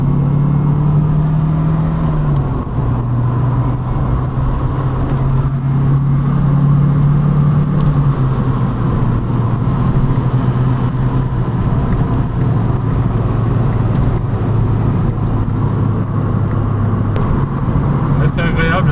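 A Renault 21 2-litre turbo sedan drives along with a loud, continuous engine drone whose pitch steps down as it shifts, under steady road and wind noise while people talk inside the car.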